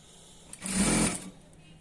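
A sewing machine stitching the seam of an ankle-length pant, one short close burst of whirring lasting under a second, with quiet room sound before and after.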